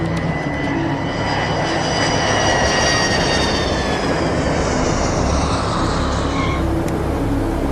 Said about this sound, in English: Justice 113, Mars Tower, check wheels down, wind estimated calm, cleared to land,